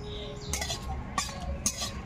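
Dried red chillies tumble into a dry hot pan while making a sweet-sour-spicy chalta pickle, giving a few light clinks and rattles in three brief bursts over a faint low background.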